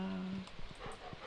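Short whimpering dog sounds from the Stardew Valley Expanded farming game, a few soft whines over a quiet background with no talking.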